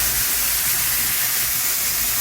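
Burger rice with bacon and red pepper sizzling in a pan, a loud, steady hiss that stays constant and close from start to finish, no talking over it.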